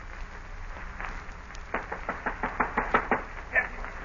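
Knocking on a door in an old radio drama: a series of sharp raps, a few scattered at first, then a quick run of evenly spaced knocks, heard alone and fairly close.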